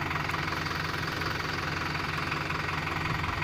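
Tractor engine running steadily while spraying and feeding a field, a continuous loud close diesel drone with a knocking throb and no talk over it.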